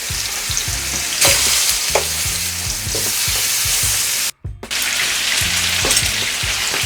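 Chicken pieces browning in a pan, a loud, dense, close sizzle of frying oil that runs almost without pause, broken only by a brief silent gap midway.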